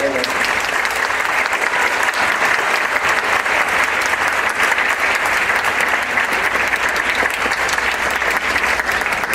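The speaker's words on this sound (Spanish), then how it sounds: "Un fuerte aplauso." A bolero concert audience applauds steadily and loudly for about nine seconds, a dense, even wash of clapping from a large crowd with no break.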